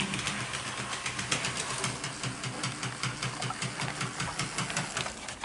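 A V/Line L class model locomotive's motor runs steadily and close by, a busy mechanical hum with a regular pulsing clatter throughout, no voices.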